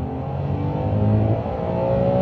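A Ferrari 599 GTB Fiorano's engine pulls hard and steadily as heard from the cabin, with a loud, smooth, rising drone and no talking.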